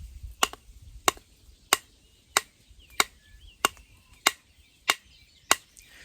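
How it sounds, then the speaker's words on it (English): Knife blade chopping into wood in a beaver-chew cutting pattern, sharp cracking strikes repeating in a steady rhythm, nine crisp impacts about two-thirds of a second apart, close and alone. "cutting up and then cutting down with that blade to beaver chew it"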